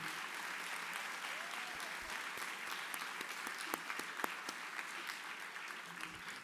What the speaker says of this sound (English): please give him a clap, round of applause